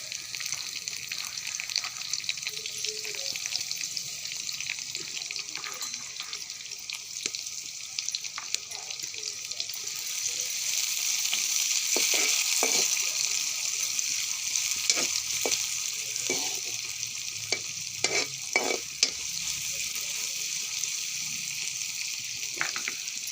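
Onions sautéing with chilies in a pan, a steady soft sizzle running the whole time with scattered sharper crackles and light stirring scrapes, loudest in the middle stretch, no talking.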